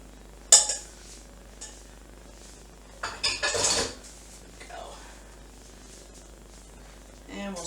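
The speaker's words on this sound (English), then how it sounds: "And we'll stir it up carefully." A spoon clinks and scrapes against a pot while food is stirred, giving a few sharp metallic knocks and a short rattling burst, with quieter handling sounds between them.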